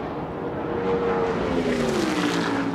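NASCAR stock cars racing at Atlanta Motor Speedway, a dense continuous engine roar from the pack with a rising-and-falling drone as cars pass.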